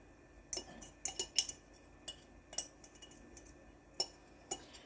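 A spoon clinks and scrapes against a bowl while a cornstarch sauce is mixed, a run of sharp, light metallic taps spaced irregularly, fairly faint and with no talking.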